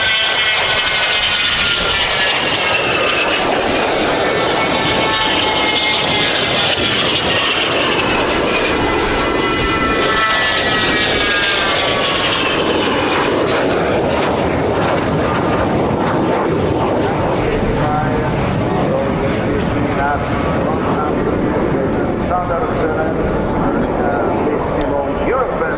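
Spanish Air Force Patrulla Aguila aerobatic jets fly over an airshow at RAF Fairford, a loud, sustained engine roar that rises and falls as the aircraft pass, with a commentator talking over it throughout.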